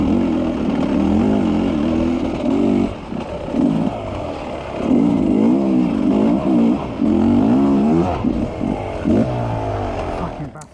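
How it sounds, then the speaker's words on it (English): A dirt bike engine lugging at low revs during an offroad cross-country race in Ontario, a loud, close, throbbing drone that rises and dips in uneven pulses with brief drops in between. "Now listen to me lug the bike everywhere."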